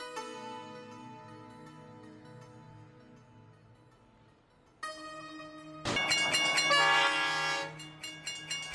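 A train sits at a station, its long horn sounding twice, first a sustained fading blast, then a louder, brighter one over rumbling carriage noise, in a ghost-story setting with no talking.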